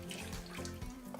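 Chicken broth, about one and a half to two cups, poured into a pan for gravy, a steady close liquid splash and trickle running without pause.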